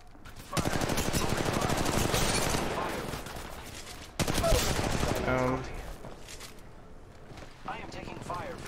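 Gunfire in a ranked first-person shooter match, sustained automatic bursts for several seconds, a break, then another burst, with players talking over the shooting.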